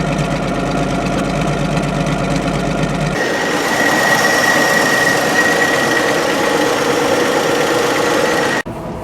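A 1965 Chevy truck engine runs steadily throughout, loud and close with a busy mechanical clatter, heard from inside the cab as it rides back into the woods; the tone shifts after a few seconds, then cuts off abruptly near the end.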